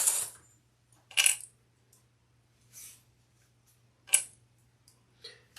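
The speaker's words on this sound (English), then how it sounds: "Let me get some wonder clips." Plastic Wonder Clips for sewing are handled during work on a leather crossbody handbag, giving a few sparse, faint clicks and clatters spaced over several seconds in a quiet room.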